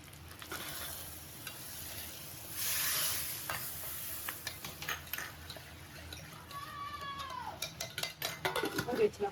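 Vadagam, dried red chillies and curry leaves fry in hot oil with a faint, steady sizzle. Stirring clatters against the pan in bursts, and a cat meows briefly in the background.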